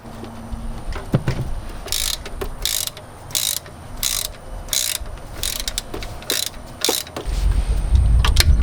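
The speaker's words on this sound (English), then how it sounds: "Next, you're going to want to loosen this pinch bolt right here. It's also a 14mm bolt." A ratchet wrench loosening a 14mm pinch bolt on the power steering of a 2001 NB Mazda Miata, with steady repeated rasping clicks in regular bursts close by, ending in a low rumble.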